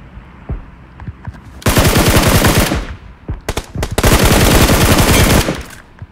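Automatic gunfire in the mobile game PUBG Mobile: a few scattered single shots, then two long, loud rattling bursts of rapid fire close by, with no one speaking.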